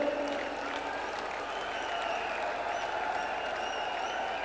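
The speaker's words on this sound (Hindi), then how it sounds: "एक बार जोरदार ताली बजाकर।" Crowd applause at a public political rally in Jaipur welcoming Prime Minister Narendra Modi, a steady wash of clapping from a large distant gathering, even in level throughout.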